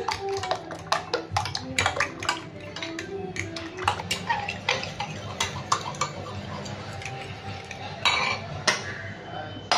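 Eggs and milk whisked in a bowl for a Telugu-style egg bread omelette, giving a steady run of quick metallic ticks and clinks from utensil against dish, close and fairly loud, with no talking.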